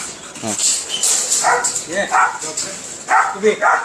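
Dogs bark and yip at a dog farm with Great Dane and Labrador breeds, giving several short, close barks. Someone talks steadily over them.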